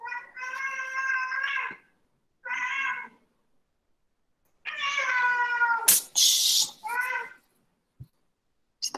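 An agitated female cat meows repeatedly and insistently, with long drawn-out caterwauling calls separated by pauses, close to the microphone, with a brief clatter or hiss midway.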